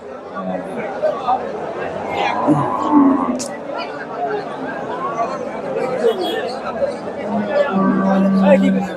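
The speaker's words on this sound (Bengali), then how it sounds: "এগুলা মোটামুটি ফ্রিজিয়ান এবং ক্রস ক্রস বিটের গাভি গরুগুলা" Friesian and crossbred cows lowing amid the steady hubbub of a crowded cattle market in Chandaikona, Bangladesh, with a drawn-out moo standing out near the end over background chatter.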